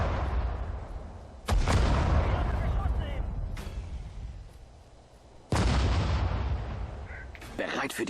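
Artillery in the World War II strategy game Sudden Strike 4, at the Battle of the Bulge: two heavy cannon blasts a few seconds apart, each with a long rumbling tail, over steady battlefield noise.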